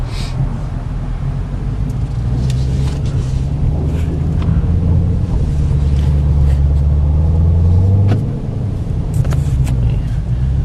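A 2011 Cadillac CTS-V on Z-rated tires pulls away in snow, its engine rumbling loud and steady with a rising tone partway through as it accelerates.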